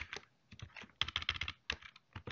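Computer keyboard typing while an SQL query is being edited: irregular bursts of close, crisp key clicks with short pauses, and no talking.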